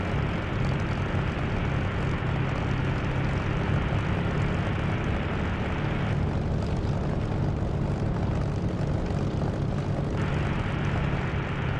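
Spitfire piston engine at takeoff power in the DCS flight simulator, a loud continuous propeller roar that fills the whole stretch, its tone dulling briefly midway before returning.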